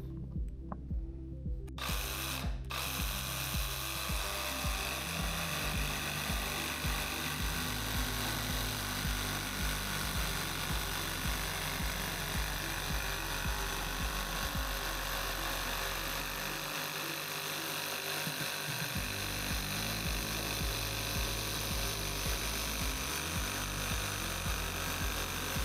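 A DeWalt XR cordless jigsaw saws through hard white oak, its blade chattering in a dense, steady rattling buzz that runs loud and close without a break, with small shifts in pitch and load as the cut goes on.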